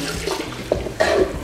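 Liquid floor cleaner is poured into a container of water for washing floors, giving a brief, close splashing gurgle.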